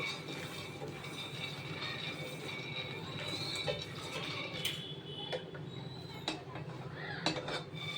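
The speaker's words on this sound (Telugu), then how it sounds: "ముందు పల్లీలని కొంచెం దూరగా వేయించుకోవాలి" Peanuts dry-roast in a pan with a faint, steady rattle and scattered clinks of a spoon against metal, continuing quietly without speech.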